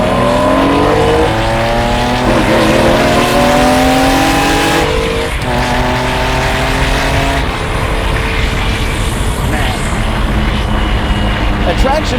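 A 1992 Lamborghini Diablo engine revs hard and accelerates through rising gear pulls, loud and close, with a shift break midway and roaring pitch sweeps continuing after.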